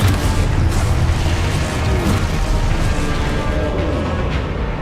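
Spell blasts going off in Hogwarts Legacy, a sustained loud, rumbling barrage of booming explosions and magical bursts that fills the whole stretch with dense low-end roar.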